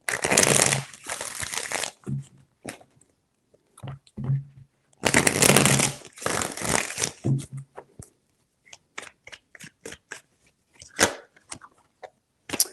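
A deck of tarot cards is shuffled during a reading, several bursts of riffling and slapping with short gaps between them and scattered sharp card snaps, close up and without talk.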